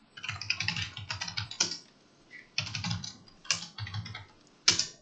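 Fingers tap quickly on a computer keyboard in bursts of rapid clicks separated by short pauses, close and fairly quiet, with an occasional louder key strike and no voices.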